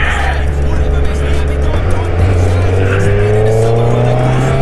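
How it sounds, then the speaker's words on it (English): A Suzuki GSX-R1000 motorcycle engine running loud and close, a steady heavy drone with the pitch climbing gradually as it is revved, continuous throughout. "I love to hear the sound of that engine."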